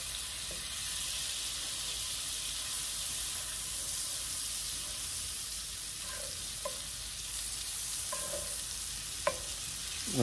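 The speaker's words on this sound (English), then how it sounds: "I'm gonna melt it down real good." Butter melting in a pan for New Orleans barbecue shrimp, giving a constant bright sizzle throughout, with a few faint utensil taps and one sharper clink near the end.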